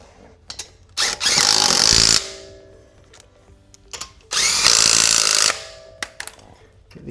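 A power tool drives bolts into a Cybertruck wheel in two loud, sustained whirring bursts of about a second each, separated by a pause with a few faint clicks and handling noises, close up with no talking.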